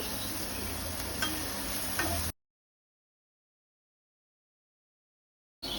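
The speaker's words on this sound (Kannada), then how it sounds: "ಒಂದು 2 to 3 ಆನಿಯನ್ಸ್ ಹಾಕೊಂಡು ನೀಟಾಗಿ ಫ್ರೈ ಮಾಡಬೇಕು." Onions frying in hot oil for a fish fry masala give off a dense close sizzle with faint stirring ticks for about two seconds, then cut to dead silence before the sizzle briefly returns.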